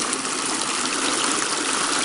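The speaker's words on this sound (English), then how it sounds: "Check out this little waterfall I found." A small waterfall on a creek gives a steady, close rush of falling and splashing water, with no other sounds over it.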